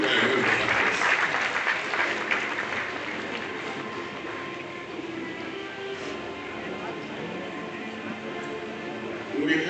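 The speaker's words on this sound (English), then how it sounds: "Please let me buy a round of applause." Applause at a university convocation and founders' day ceremony, a sustained wash of clapping from a large audience that fades slightly over about ten seconds before swelling again at the end.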